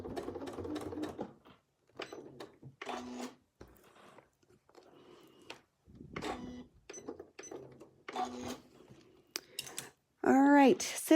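Home sewing machine free-motion stitching hexagon shapes on a quilt, then tying off the threads, heard as bursts of rapid mechanical stitching broken by pauses, with a person talking in between.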